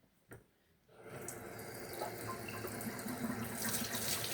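Warm water runs steadily from a kitchen tap while muffin batter is being made, starting after a brief knock and continuing as a close, even splashing rush with no talk.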